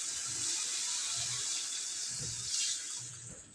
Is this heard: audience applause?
no